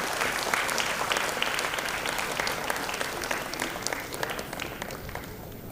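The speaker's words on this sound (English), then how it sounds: "May I request a round of applause for all the achievers and winners for today." A large convocation audience applauds achievers and winners, with dense, steady clapping that slowly fades slightly over several seconds.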